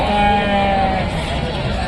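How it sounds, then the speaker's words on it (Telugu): Goats bleating close by at the Rajarampalli weekly livestock market, a quick burst of calls with people talking over the crowd. "బాబు నీయేనా ఇవన్నీ మేకలు?"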